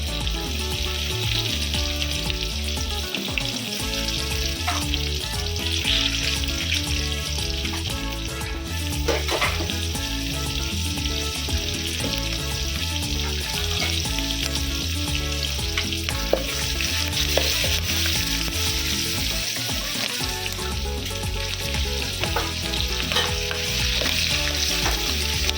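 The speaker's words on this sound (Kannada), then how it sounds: "ಅರಿಶಿನ ಹಾಕೋದ್ರಿಂದ ಒಗ್ಗರಣೆಗೆ ಬೇಗ ಬೆಳ್ಳುಳ್ಳಿ ಬೇಯುತ್ತೆ" Garlic and chana dal crackle steadily in hot oil with a pinch of turmeric for a tempering, a loud continuous close sizzle with stirring clatter running throughout, no voices.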